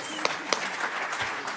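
Brief audience applause at a high-speed rail panel discussion, with scattered sharp claps and talking mixed into the clapping.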